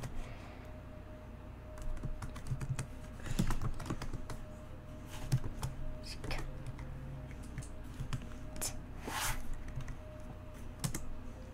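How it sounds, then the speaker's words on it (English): Rapid clicking of keys on a computer keyboard, typed in short irregular bursts at close range, with faint speech in between. "Then I'm just going to type 200, 200."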